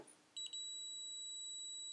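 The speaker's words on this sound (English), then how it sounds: "You see you get the dashes and beeping, and as you get closer and closer to the unit," A Flir CM46 current clamp in non-contact voltage mode gives a few quick beeps, then settles into a steady, continuous high-pitched tone, clear and close.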